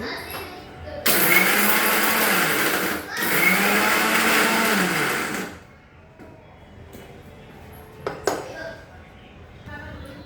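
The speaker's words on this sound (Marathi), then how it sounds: "आपण मिक्सरला वाटून घेऊ" A mixer grinder grinding roasted coconut, garlic, cashews, almonds and cumin runs in two loud whirring bursts of about two and four seconds, then stops; a few clinks of utensils follow in the quieter tail.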